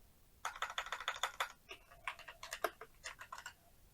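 Two short bursts of quick computer keyboard clicking, close by, separated by a brief pause, with no talking.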